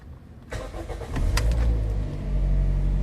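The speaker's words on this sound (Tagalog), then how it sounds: "Pa-start ko na ulit itong makina ni customer." A Toyota Vios engine under repair, after a no-start fault, cranks briefly and catches, then settles into a loud, steady idle close by.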